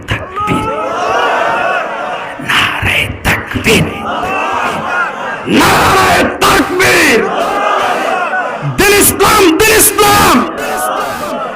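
A large crowd at a Bangla Islamic sermon shouts the takbir response in loud, massed bursts, several roaring waves that swell and break between brief pauses, close and overwhelming.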